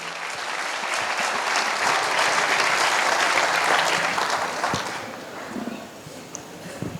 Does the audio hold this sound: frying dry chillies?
no